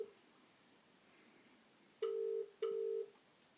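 A telephone ringing over a speakerphone gives two short, steady electronic ring tones, each about half a second, over faint background hiss.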